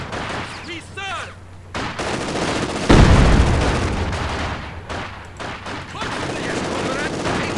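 Sustained machine-gun fire and explosions from the multiplayer strategy game Company of Heroes 2 rattle loudly throughout, with a heavy boom near the middle and someone talking over the battle noise.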